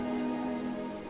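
Steady rain falls on a surface as a continuous, even hiss lasting about a second, with no voices over it.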